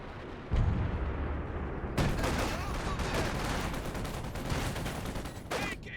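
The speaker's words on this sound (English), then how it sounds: "a few more shells going to be dropping on that" Artillery shells and a walking Stuka rocket barrage pound the battlefield in Company of Heroes 2, a dense roll of booming impacts and crackling blasts that swells sharply after a heavy thud, with a brief whistling streak near the end.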